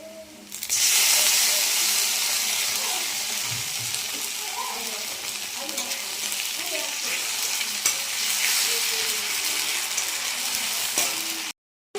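Ginger, garlic, onion, pepper and chilli paste frying in hot oil for chicken curry, a loud continuous sizzle with steady hiss, occasional stirring scrapes, ending abruptly.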